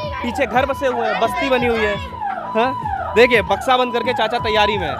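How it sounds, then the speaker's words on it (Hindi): Railway crossing warning siren sounding before a train arrives beside a temple and housing settlement in Kolkata, a steady tone running throughout beneath continuous nearby talk. "सायरन की आवाज़ें आपको सुनाई दे रही होंगी"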